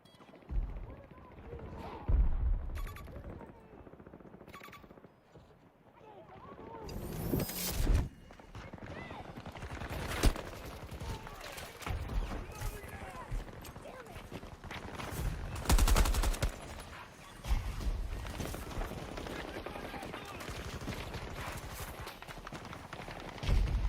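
Suppressed gunfire in Battlefield 2042, rapid muffled shots in bursts across the clip, mixed with other game action and a voice talking over it.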